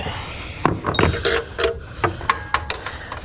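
An old, loose Duralast ratchet works on the bolts of a 2012 Dodge 2500 6.7 water pump, making a close series of irregular metallic clicks and clanks that come in quick bursts.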